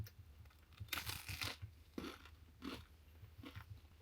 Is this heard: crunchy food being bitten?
yes